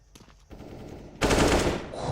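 Gunfire during a professional Counter-Strike match: a few sharp distant shots, then a loud, close burst of rapid automatic fire that fades slightly near the end.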